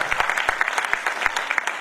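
Audience clapping at a Hindi kavi sammelan poetry recital, a steady wash of many hands applauding throughout, fairly close and even in level with no voices standing out.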